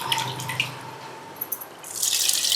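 Water pours into a kitchen mixer jar while a lentil batter is being ground for a Mangalorean tomato saar recipe. Brief splashes and trickles come close by, then a louder, fuller gush of pouring swells at the end.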